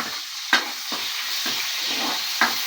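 Chopped garlic sizzles steadily in a hot pan as it browns, a constant close frying hiss broken by a few sharp bursts when it is stirred.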